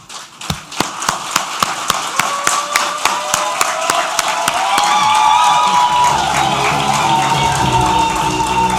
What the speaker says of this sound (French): Je voudrais que tous les récipiendaires se lèvent pour applaudir et clamer très fort encore le corps enseignant ici présent ce matin.